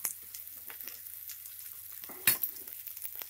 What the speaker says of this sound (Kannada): ನೋಡಿ ಸಾಂಬಾರು ಕುದಿತಾ ಇದೆ.